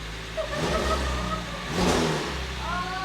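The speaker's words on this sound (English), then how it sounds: "I got plenty of oil pressure. Engine's running." A freshly rebuilt Porsche 911 with a 4.0 engine runs and revs up and down in two swells, close and loud, with a rising whine as it climbs, while a voice briefly cheers over it.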